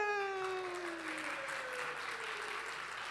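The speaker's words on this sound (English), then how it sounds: "You have to keep clapping until they're here." Audience applause at a rooftop church baby dedication rings out as a steady wash of clapping, moderately distant, while a fading whistle-like tone slides downward at the start.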